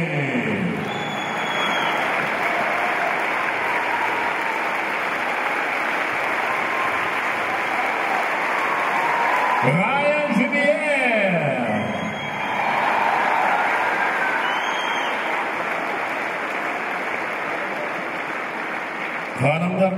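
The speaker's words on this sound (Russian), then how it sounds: "Давайте вступаем в овации" Sustained audience applause in an ice arena greeting a guest skater from France, a steady dense wash of clapping with a brief swell near the middle, and a voice speaking faintly over it.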